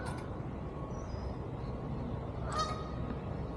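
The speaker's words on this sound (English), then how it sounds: "And there are geese over there on the island." Geese honk from an island on a lake, heard at a distance with two short bursts of calls, one near the start and one later, over steady outdoor ambient noise.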